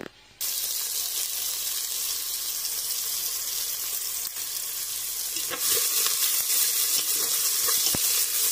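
Vegetables fry in reused cooking oil with a loud, constant close sizzle that starts abruptly after a brief quiet moment, with a few faint clicks toward the end.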